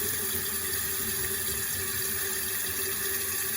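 A toilet tank refilling with water through its float valve, a loud, constant rushing hiss of flowing water with no change or shut-off within the span and no talk.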